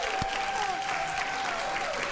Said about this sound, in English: Just a little clap.